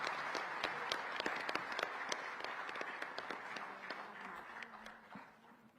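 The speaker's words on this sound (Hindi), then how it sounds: "एक बार जोरदार तालियों के साथ उनका स्वागत करेंगे।" An audience claps loudly in sustained applause to welcome dignitaries onto the stage at NDDB's diamond jubilee ceremony. The dense clapping continues for several seconds, then gradually fades.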